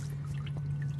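Overflow water from a rain barrel running through a hose, a steady pouring trickle over a low constant hum, close and moderately quiet.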